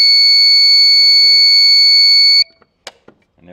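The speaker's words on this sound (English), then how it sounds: "when it hits that 665, the alarm will go off" A PID temperature controller's alarm for a wheel-weight smelting pot sounds a loud, steady multi-tone electronic beep for about two and a half seconds, then cuts off abruptly, leaving a few faint knocks and quiet handling noises.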